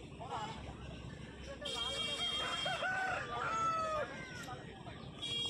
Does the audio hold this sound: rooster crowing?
yes